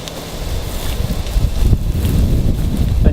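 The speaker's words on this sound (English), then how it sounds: "You can see it's super windy out here." Gusty wind buffets the microphone with a steady low rumble that swells and surges, fairly loud throughout with no voices.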